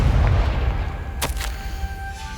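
Confringo explosion spell in a Harry Potter video game goes off as a short, sharp blast over low rumbling game ambience, with a second crack following close behind.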